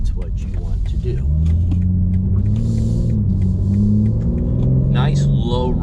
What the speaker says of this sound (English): Nice low rumble. Love the exhaust on this.